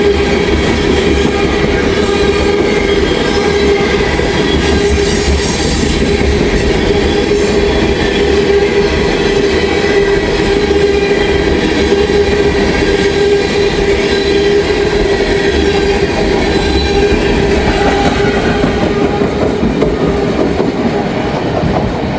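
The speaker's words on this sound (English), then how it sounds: "Empty ethanol train, Norfolk Southern" An empty Norfolk Southern ethanol freight train rolls past close by, a loud continuous rumble of wagons with rhythmic wheel clatter and a faint steady squeal, sustained throughout with no voices.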